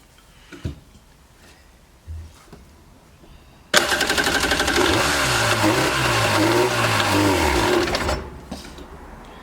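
The engine of a 1995 Yamaha WaveRunner jet ski fires up with a carburetor fuel problem. Some faint knocks come first, then a loud, raspy, buzzing run lasts about four seconds with the pitch rising and falling, and then it cuts out.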